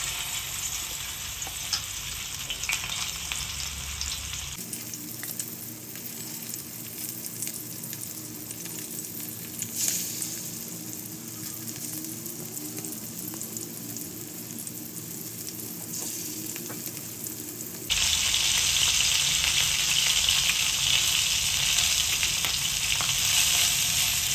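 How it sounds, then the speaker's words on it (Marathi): Marinated pomfret fish sizzles steadily in a hot pan, a continuous broadband crackle with stirring scrapes, louder and brighter at the start and again near the end. "आता याला आपण फ्राय करून घेऊया।"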